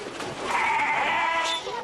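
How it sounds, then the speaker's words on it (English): A goat bleats in a long wavering call in Kenya, loud and close, with no talking. "purpose of the trip is to accompany Lawrence to sell his 10 goats."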